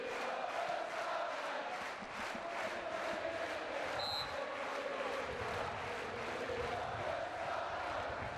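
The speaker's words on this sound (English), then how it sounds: "let's just listen to the crowd" A crowd at a beach volleyball Nations Cup match between Italy and Austria cheers and chants in a steady, fairly distant roar, with a brief whistle-like tone partway through.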